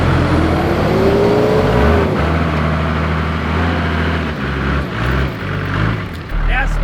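A bogged 4WD being towed backwards out of mud by another vehicle, with engines revving loudly and roaring steadily up close, the pitch rising and dipping as they strain, and indistinct voices beneath.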